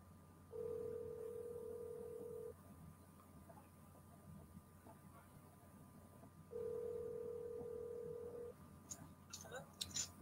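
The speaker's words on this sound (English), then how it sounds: "let's try and call her now" A telephone tone sounds while a call is being placed, two steady two-second tones about six seconds apart, clean and moderately loud over a quiet room, with faint clicks of handling near the end.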